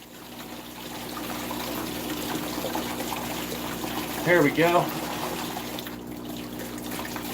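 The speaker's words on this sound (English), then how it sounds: "Fortunately, I get some good water pressure in there." Water gushing under good pressure from a tap while a filter is washed out, a steady rushing stream running throughout with someone talking over it and a short burst of whistling midway.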